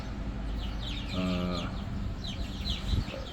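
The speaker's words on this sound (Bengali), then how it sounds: "আমার মুরগির বাচ্চাগুলো এখন বয়স হচ্ছে" Young chicks of a Tiger breed, about 24–25 days old, cluck and chirp on a poultry farm, with a steady murmur of many birds and a brief clearer call standing out near the middle.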